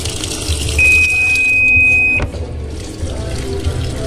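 Water runs into a Sanken single-tub washing machine being filled to wash a carpet, a steady rushing flow with a thin high tone partway through, fairly loud and close.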